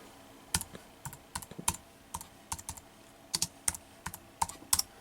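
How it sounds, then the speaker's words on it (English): Keys clatter on a computer keyboard connected through a Belkin 4-port USB hub to a MacBook Pro, with close, crisp clicks in short irregular bursts and brief pauses and no talk. "let me type something in Google here"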